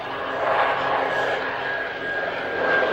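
A de Havilland Dragonfly biplane flies over Kemble Airfield during an airshow, its steady engine drone filling the air at moderate distance under a broad wash of outdoor noise, with no break across the moment.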